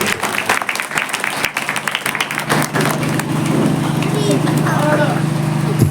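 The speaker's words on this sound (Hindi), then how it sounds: "आप सब लोग एक बार तालियां बजा दीजिए ताकि लगे।" At a foundation-stone ceremony where a minister is garlanded, an audience claps in a brisk, scattered burst beneath a speaker's voice, fading after a few seconds into a steady hum with faint murmuring.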